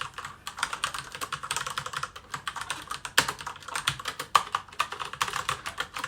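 Fast, irregular clacking of keys typed on an ASUS ROG Strix Flare mechanical keyboard, close and crisp, with one sharper louder stroke partway through and no speech.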